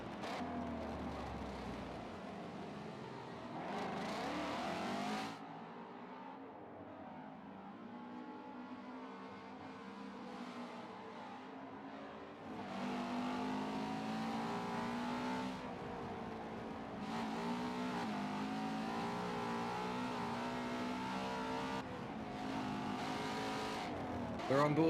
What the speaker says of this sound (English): how great these Voodoo naturally aspirated V8s under the front bonnet of these Ford sound